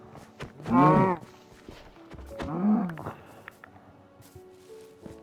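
Cows moo in a Minecraft-style video game: two drawn-out, fairly close lowing calls about two seconds apart, the first louder, set over faint footsteps and ambient game noise.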